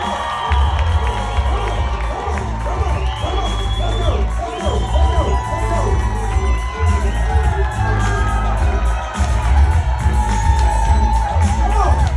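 A lively crowd at an evening comedy show cheers, whoops and shouts loudly and continuously, a dense wall of voices over a thumping low bass from the venue's music.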